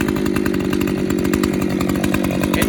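A chainsaw mounted on a Granberg G-555 edging mill, running without a guard, roars loud and steady at close range with a continuous buzzing drone and no pauses.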